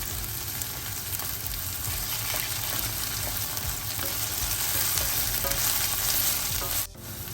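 Soya chunks with fenugreek, garlic and onion sautéing in a pan, giving a loud, continuous frying sizzle that holds steady throughout and briefly drops just before the end.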